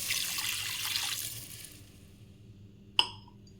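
Water pours into a pan of spinach curry, a splashing rush that fades out over two seconds, followed by a single sharp clink of a glass against the pan.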